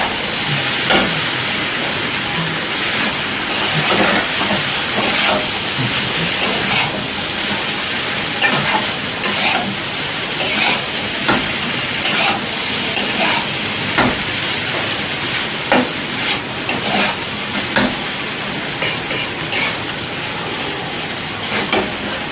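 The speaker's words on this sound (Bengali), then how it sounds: "চাউমিনটাকে ভালো করে একটু ভেজে নেব আলুর সাথে" Chow mein noodles with potatoes and a little salt stir-fry in a pan with a continuous close sizzle, and a spatula clatters and scrapes against the pan again and again throughout.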